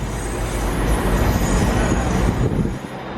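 A Class 220 Voyager, unit 220 008 on a cross-country service, departs Leeds station: a steady loud rumble and rolling rail noise that holds throughout, easing slightly at the end.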